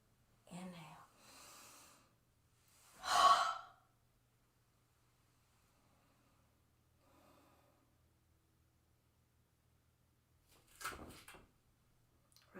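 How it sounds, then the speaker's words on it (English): Slow, deep breaths during a qigong exercise: a few audible inhales and exhales through the mouth, spaced seconds apart with long quiet gaps, close to the microphone. "Breath in. Exhale. Out the mouth."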